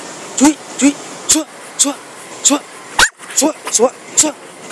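A dog being trained to bark on command gives about a dozen sharp, loud barks in a fairly regular rhythm, close by, while a man calls short commands between them.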